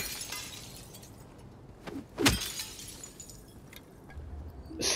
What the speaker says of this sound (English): I'm smashing these car windows